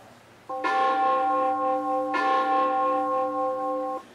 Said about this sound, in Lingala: Ngonga ebeti.